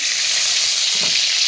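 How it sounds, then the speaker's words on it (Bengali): Hot oil sizzles steadily in a kadai (wok) while cooking Bengali masoor dal chorchori, a bright, even frying hiss filling the short stretch with a faint stir-like rustle near the end and no voices. "কড়াইয়ে তেল দিলাম"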